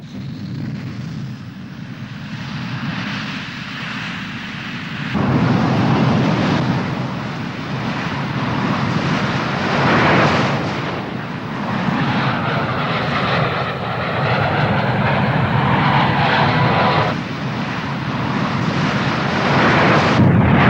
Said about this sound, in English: regiment is equipped with the MiG-21 BIS, many thousands of which have been built for the Soviet frontal air forces.